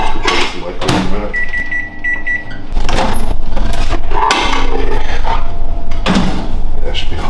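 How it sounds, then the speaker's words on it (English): A microwave oven heating a bowl of broccoli gives a steady hum with a thin high electronic tone, mixed with clattering of doors and dishes, bumps in a kitchen and a voice talking nearby. "let's put this in the microwave in a minute."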